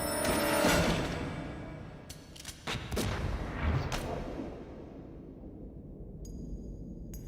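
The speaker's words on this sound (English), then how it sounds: "I heard gunshots." Several sharp gunshot-like cracks ring out over a dense, rumbling background, bunched in the middle of the stretch, followed by quieter ambience with a faint electronic ringing tone near the end.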